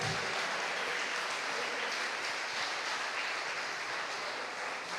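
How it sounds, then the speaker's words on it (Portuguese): A church congregation applauds in a dense, continuous wash of clapping that holds steady for several seconds without talk. "Aplauda ao Senhor."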